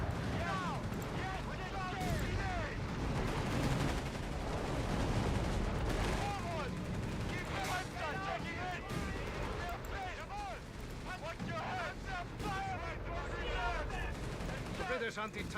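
A war video game battle with tanks and an anti-tank gun: steady distant gunfire and occasional blasts rumble beneath a dense mix of voices and game noise throughout.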